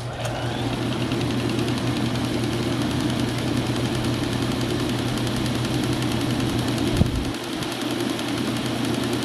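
An antique General Electric belt-drive refrigerator motor runs with a steady low hum and a continuous mechanical drone, close and constant, with a brief knock near the end.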